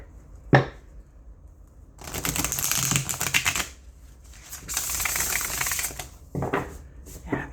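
A gilded tarot deck is riffle shuffled twice in quick succession, each a dense burst of crisp clattering card flicks lasting over a second, followed by a short bridge-like rustle, close and fairly loud with no talking.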